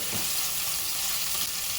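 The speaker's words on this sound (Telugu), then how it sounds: "కొంచెం బ్రౌన్ వచ్చే వరకు మనము వేయించుకున్నాం" Paneer cubes fry in a pan, a steady close sizzle with a soft stirring scrape near the start, continuous and fairly loud with no talking.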